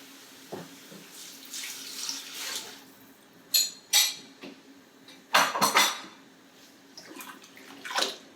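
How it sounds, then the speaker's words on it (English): Sweet potato, red lentils and vegetable stock go into a pot for a ginger-spiced soup, with a few brief, soft splashing and pouring bursts and light clatter against a quiet kitchen background. "And now we can bring in our sweet potato, our red lentils, and the vegetable stock."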